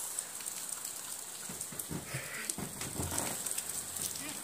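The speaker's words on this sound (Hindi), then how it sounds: "यहाँ बहुत ज्यादा बारिश हो रहा है" Heavy rain pours steadily outside a home, a dense continuous hiss filling the whole stretch with faint scattered thuds and noise underneath, no talking heard.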